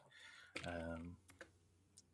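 Computer keyboard typing during a streaming discussion, a few soft, faint key clicks scattered under and after a brief stretch of speech.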